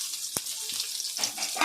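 Chopped onions drop into hot oil with crackling fenugreek seeds for a fish curry, giving a soft thud and then a rising, close, steady sizzle with no talking.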